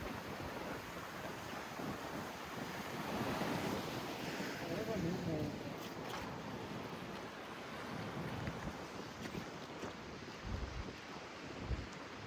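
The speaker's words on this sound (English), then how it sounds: "Those waves are huge" Huge ocean waves crash and roar continuously under hurricane-force wind, with heavy wind buffeting the microphone and voices faintly heard through the surf.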